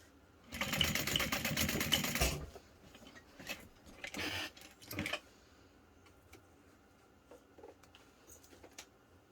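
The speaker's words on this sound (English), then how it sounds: "I like to do some stitching right here, making sure to back stitch." A sewing machine runs in a loud, fast stitching burst on a backpack strap piece with a D-ring, followed by shorter back-and-forth stitching runs, then quiet handling sounds.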